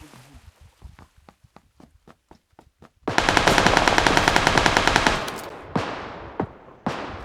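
Gunfire from another player in PUBG Lite: spaced single shots at moderate distance, then a loud sustained burst of rapid automatic fire, trailing off into a few more isolated cracks.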